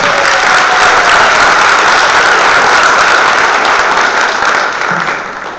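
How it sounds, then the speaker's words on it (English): A room of attendees at a county party executive committee meeting gives a loud, sustained round of applause that holds steady for several seconds before tapering off near the end. "Let's give them one more round of applause"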